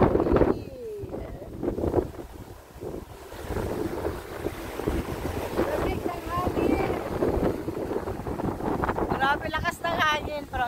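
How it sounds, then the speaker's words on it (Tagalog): Strong, cold wind buffets the microphone in heavy gusts on Jeju Island, with surf or rushing water behind and some talking in the middle. "Grabe lakas ng hangin, parang lamig."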